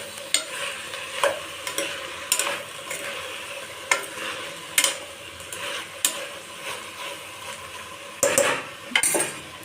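Thinly cut potatoes being stirred into broccoli rice in a pan, with a soft sizzle under repeated scraping strokes of a utensil against the pan and a busier burst of stirring near the end.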